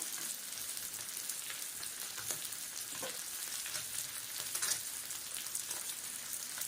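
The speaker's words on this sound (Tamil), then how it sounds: "நம்ம இப்படி ஒரு மூடி போட்டுட்டு நம்ம ஃப்ரை பண்ணும்போது" Sardine fish fry in a covered pan gives a steady, dense crackling sizzle with scattered sharper pops, continuous and fairly quiet with no talk.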